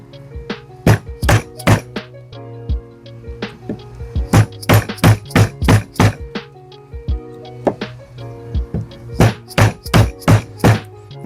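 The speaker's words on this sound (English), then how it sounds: "it's pretty easy to cut a 3/4 inch mortise with a 3/4 inch chisel" Chisel struck repeatedly to chop a 3/4 inch mortise in wood, using a rusty old sharpened chisel on a fence picket; sharp, close thunks in irregular bursts of mallet blows with short pauses between.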